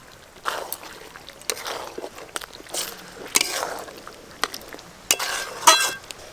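Chopped tomatoes go into a pan of chicken kosha curry, bringing a few sizzling bursts, stirring scrapes and light clinks of a utensil against the pan, spaced unevenly over several seconds.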